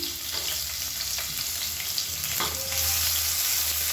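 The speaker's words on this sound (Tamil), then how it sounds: "இதை நல்லா வதக்கிக்கலாம்" Sliced onions sizzle and crackle steadily in hot oil, with occasional stirring scrapes in the pan.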